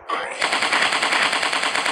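Continuous rapid gunfire in a dinosaur hunting shooting game on Android, loud and sustained like a machine gun, a dense steady rattle with no pauses.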